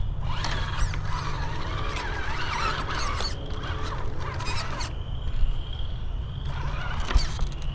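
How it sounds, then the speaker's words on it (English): A stock steering servo on a budget RC crawler whirring and grinding as it moves, with strained mechanical buzzing in short bursts and a higher whine, close up over a steady low hum. "here seems to be one of the problem areas with the stock servo"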